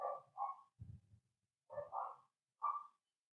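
A dog barks in a handful of separate bursts, a few short woofs spaced irregularly with brief pauses between them, fairly close and moderately loud with no talking over it.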